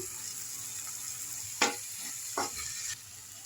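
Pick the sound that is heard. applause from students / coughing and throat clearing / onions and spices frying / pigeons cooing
onions and spices frying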